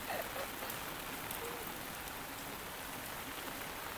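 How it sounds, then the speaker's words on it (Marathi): Heavy rain falls on a Konkan village, a soft, even wash of droplets hissing steadily, fairly quiet and distant with no talk. "गावी पाऊस बघा केवढा आहे."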